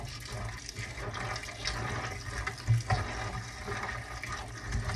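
Salted cabbage for kimchi rinsed under a running tap, a steady broadband rush of water splashing into a sink basin, with a few brief louder splashes midway and no talking.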